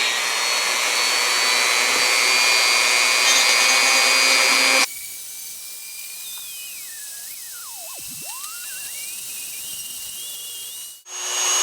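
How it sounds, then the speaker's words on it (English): A Dremel rotary tool whines high and steady while cleaning epoxy around a toy racing car motor, first loud then lighter in a sweeping pitch as it loads and spins back up near the end. "Here comes the Dremel on."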